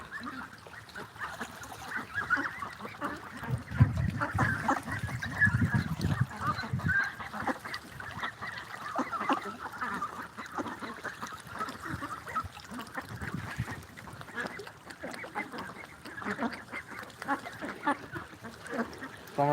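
Ducks about 35 to 40 days old and weighing 3 to 4 kg on a farm, a flock honking and quacking continuously at moderate distance in a busy, overlapping chorus.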